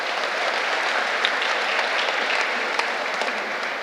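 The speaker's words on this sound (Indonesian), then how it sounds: "Tepuk tangan untuk mereka semua." Steady, even applause from a congregation at a Christmas Eve night Mass honours the organist and choir, a dense wash of clapping alone with no voices.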